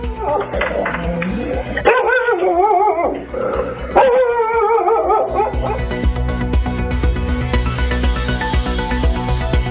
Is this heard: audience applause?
no